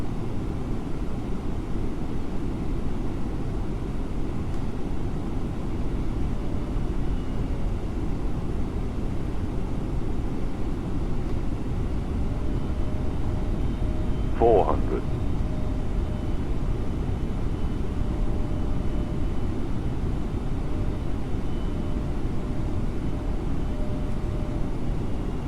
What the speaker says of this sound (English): we are 7 hours in the air in an A321